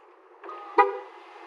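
A Tesla car gives a short horn chirp as it locks from the app, one brief nasal toot rising over a quiet tonal hum, close and clear with no talking.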